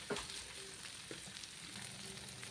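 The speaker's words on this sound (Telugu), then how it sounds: "పచ్చిమిర్చి వేసి ఆనియన్స్ కూడా వేసేసి వేయించుకుందాం." Green chilies and onions sizzle in oil in a kadai for tempering, a steady broadband crackle with a few stirring clinks, fairly quiet and continuous with no talking.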